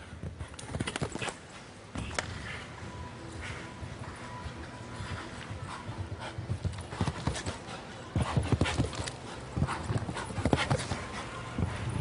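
A horse's hooves clop irregularly during a show jumping round at the World Cup Final in Omaha, fairly faint with scattered sharp thuds and background crowd hum.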